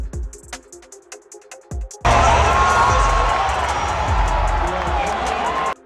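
Arena crowd in Cleveland breaks into loud cheering and applause for a standing ovation, a sustained roar that swells after quieter murmuring and clapping at the start.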